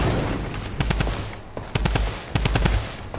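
Rapid bursts of automatic gunfire in the shooter game Unreal, loud and close, firing in several clustered volleys with short pauses between them.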